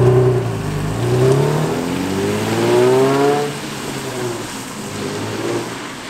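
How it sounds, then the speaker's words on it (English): An Infiniti G35 with stock exhaust drives past with a moderate, smooth exhaust note, rising as it revs through gears, then settling into a quieter cruising drone. "It just sounds like stock exhaust for the drive back."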